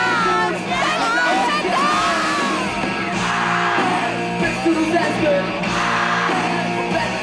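A large crowd of fans, mostly young, screams and cheers continuously at a band's concert on its first 2005 tour, a dense loud roar with shrill yells rising and falling throughout.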